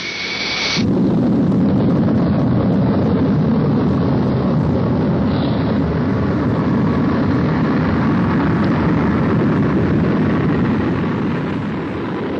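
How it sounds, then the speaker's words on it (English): An SR-71 jet rolls down the runway on launch with a loud, sustained roar that builds in at once and holds steady throughout, heard from nearby without speech. "As the aircraft moves down the runway"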